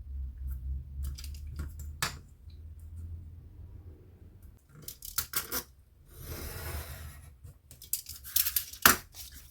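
Scissors cut paper for a junk journal folio in short, crisp snips and longer sliding cuts, quiet and close, separated by pauses with faint paper rustling.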